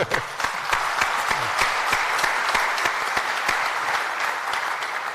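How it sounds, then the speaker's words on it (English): An audience at a live talk event claps steadily, a dense round of applause with distinct sharp individual claps standing out, holding an even level for about five seconds. "Round of hands."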